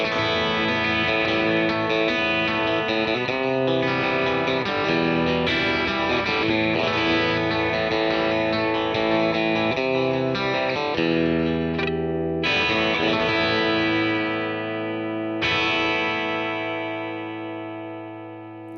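Electric guitar played through a Vox AC30-style amp rig (Choptones VOCS 30C1) with a touch of gain, sustained chords ringing out continuously and loudly, fading at the end.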